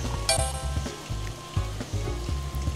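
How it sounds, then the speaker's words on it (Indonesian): Meat frying in a pan during a children's pretend cooking and food-selling game, a constant close sizzle with occasional light clinks and stirring, no talk. "Ini masih menggoreng dagingnya dulu ya."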